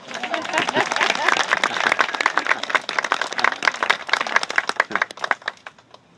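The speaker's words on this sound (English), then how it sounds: "You can give us a round of applause." Wedding guests clap in a dense, lively round of applause with crisp individual claps throughout, building and then thinning out before stopping near the end.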